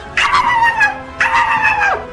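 Rubble the dog in GTA 5 lets out two loud, close yelping whimpers, each a drawn-out, falling whine separated by a short pause, with almost nothing else around them.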